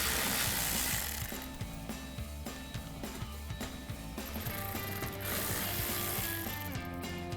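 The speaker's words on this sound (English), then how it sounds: "We're gonna take our bolts out first." Rapid ratchet clicking in repeated bursts as a hand ratchet backs out 6mm bolts from the splash shield of a Jeep Wrangler JL, close and steady with no talking.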